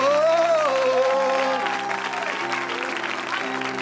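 A church congregation applauds and cheers for Jesus, producing a steady wash of clapping and crowd noise under a sustained sung or shouted voice.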